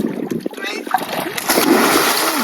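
A person jumps into water at a fishing spot where fish are trapped in old tires, giving a loud splash and sloshing after a counted lead-in, with lively voices and children talking throughout.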